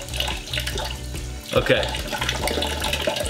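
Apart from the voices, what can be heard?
water being poured into a glass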